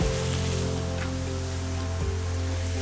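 Rain falling near a geyser in Iceland, a steady hiss of drops on surfaces, close and continuous, with a low hum underneath.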